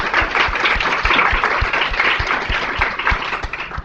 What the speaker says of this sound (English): And so just to symbolically applaud that, we will actually applaud.